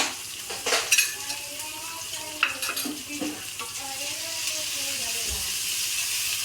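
Food for a Kerala-style beef fry sizzles steadily as it is sautéed in a hot pan, a continuous bright hiss with occasional stirring scrapes and clinks, close and loud throughout.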